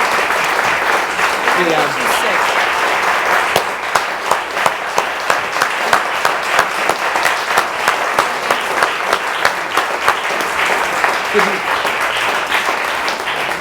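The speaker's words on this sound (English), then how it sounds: "ladies and gentlemen, again, a round of applause" An audience claps steadily for over ten seconds, a dense wash of applause with a few voices calling out through it.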